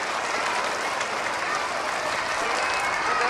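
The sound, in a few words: audience applauding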